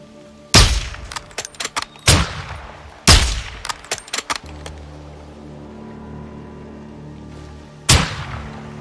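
Sniper rifle fire in Call of Duty Modern Warfare 2: four loud, sharp shots, each with a rolling echo and clattering bolt or mechanical clicks in between, the last shot after a quieter pause.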